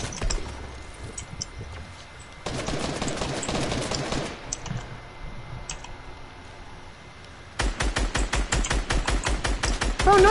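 Rapid bursts of video game gunfire, crisp and loud, come in two long rattling volleys separated by a quieter stretch of faint background sound.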